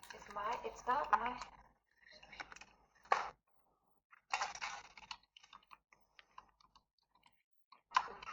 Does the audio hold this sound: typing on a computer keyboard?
yes